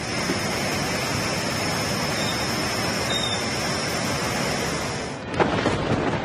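Heavy, continuous rain pours down as a dense, steady wash during a downpour at Edalabavi in Surapur taluk, with a brief louder crack or rumble near the end.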